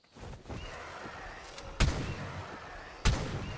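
Two sharp rifle shots in the video game ARK, each a loud crack with a brief tail over a steady ambient background.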